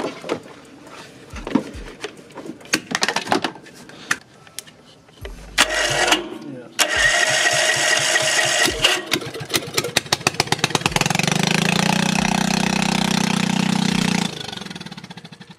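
An old manure loader engine cranks with a few sputters and bangs, then catches and runs at a loud, steady, rattling chug. Voices talk faintly near the start.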